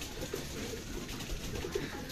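Racing pigeons coo at a loft as birds return during a derby race, soft repeated coos close by over a steady background hum, with no talking.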